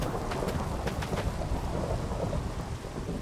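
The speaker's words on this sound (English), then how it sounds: "I don't know where did this thunderstorm came from." A video-game thunderstorm, with a low rolling rumble of thunder beneath steady rain hissing on the ground, continuous and moderately loud with no talk.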